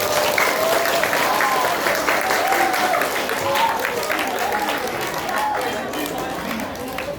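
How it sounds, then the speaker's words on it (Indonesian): Students clapping together at a school ceremony opening an Indonesian Independence Day (HUT RI 80) event at a junior high school; steady, dense applause fills the whole stretch, easing slightly toward the end. "Kasih tepuk tangan untuk anak-anak OSIS"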